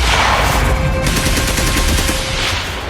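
Gunfire sound effect used in a news report on the 2008 Mumbai attacks: dense, rapid bursts of automatic shots crackle continuously and loudly for the whole stretch.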